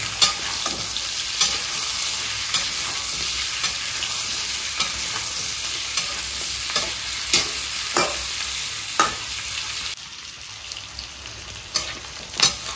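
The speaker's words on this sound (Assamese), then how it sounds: "এইখিনি এতিয়া অকণমান ভাজি লওঁ" Pork with onions and chili frying in a pan, a steady sizzle broken by repeated scrapes and stirs of the spoon at an irregular rhythm, close and without talk.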